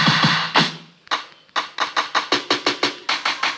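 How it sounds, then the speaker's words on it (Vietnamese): A clap drum sample auditioned in a phone music app, sharp bright handclap hits repeating in a quick regular run after a few scattered first claps, loud and close. "Ok, mình chọn tiếng clap này."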